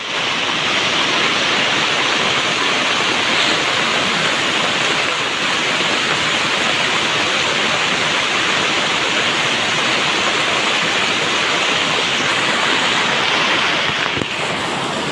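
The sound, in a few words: heavy rain and flowing water in Junagadh streets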